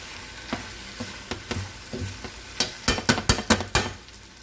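Onion, pepper and steak sizzle in a pan for an orange sesame stir fry while a spoon stirs them, giving repeated scraping strokes that quicken and grow louder near the end over a low hiss.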